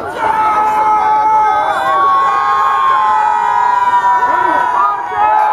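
A small cheering section hollers and whoops for Roger at a football game, excited voices yelling together in a steady, close, rowdy burst.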